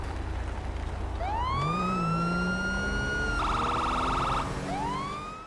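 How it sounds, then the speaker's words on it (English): A sheriff police cruiser siren in GTA V wails in a rising and sustained tone, shifts briefly into a rapid yelp pattern, then starts a new wail, loud and close over a low engine rumble. "and sometimes with the siren on."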